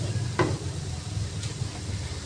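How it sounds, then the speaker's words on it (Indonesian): Bean sprouts stirred in a hot frying pan give a steady close sizzle with a scrape of the utensil partway through, and no voices are heard. "masukin toge aduk sebentar"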